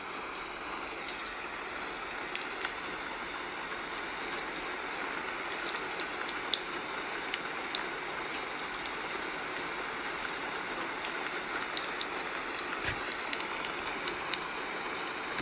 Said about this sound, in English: Wow, it's really raining today.